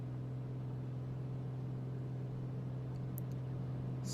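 A light aircraft engine holds a steady, moderately loud drone at takeoff power as the plane begins its runway roll, with a few brief high clicks near the end.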